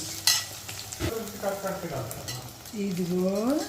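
Fish curry of small chitti bethulu fish being stirred and mixed in a pan, a spoon scraping through the thick sauce in a few strokes amid a soft sizzle, with brief clinks and no talking.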